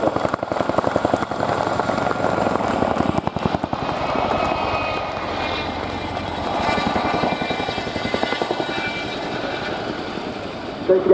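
A Chinook helicopter departing backwards at the Royal International Air Tattoo air show: loud, steady rhythmic thudding of twin rotors with a droning engine whine, close and sustained, fading slightly midway, with a voice talking over it.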